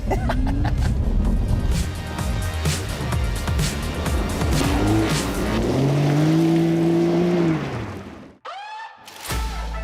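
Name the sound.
Porsche sports car doing donuts on gravel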